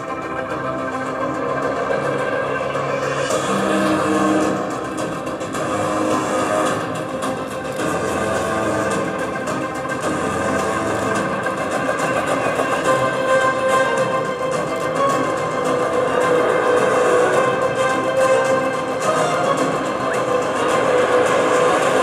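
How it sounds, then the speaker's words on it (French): An Airbus A400M Atlas military transport turboprop performing a go-around at an airshow at La Ferté-Alais, a continuous loud roar of engines and rushing air that holds steady and swells slightly toward the end. "l'équipage va effectuer devant vous une remise des gaz"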